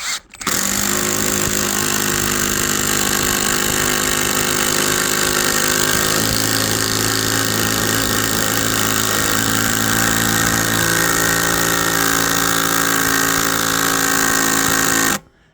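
A 12-volt impact driver drives a 160 mm screw in one long loud continuous burst, rattling and hammering at close range for about fifteen seconds before stopping abruptly, with no talk.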